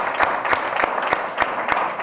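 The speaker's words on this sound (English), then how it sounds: "If you could join me in a hand of applause" A conference audience applauds after a panel on security and natural resources in Africa, steady close clapping with a few sharper accents throughout.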